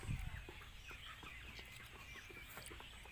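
Birds call softly outdoors in fresh open air, faint clucking chatter spread over a quiet background with no voices.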